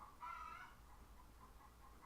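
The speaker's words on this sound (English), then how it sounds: "Pardon my chicken." A pet chicken clucks nearby indoors, a loud squawking cluck near the start followed by softer repeated clucks, with no talking.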